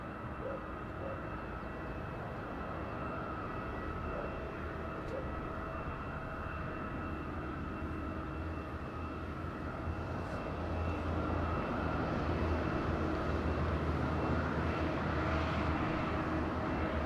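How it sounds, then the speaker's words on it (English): A Transavia airliner arriving from Paris Orly at Madeira airport produces a faint, distant, steady engine rumble and hiss under wind, growing slightly louder toward the end. "Transavia is coming also from Paris Orly with our friend as a captain"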